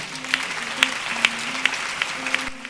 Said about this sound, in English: Clap your hands and you pray for him.